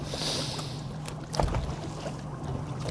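A boat trolls for squid at under three knots, its engine idling in a steady low drone with faint water and wind noise and a brief knock midway.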